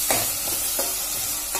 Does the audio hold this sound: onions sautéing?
yes